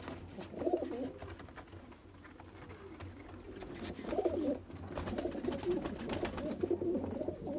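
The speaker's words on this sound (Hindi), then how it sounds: "ये बड़े ब्रीडर कबूतर हैं।" Red-eyed golden breeder pigeons cooing in a loft, soft repeated throaty coos rising in a few bursts over faint background noise.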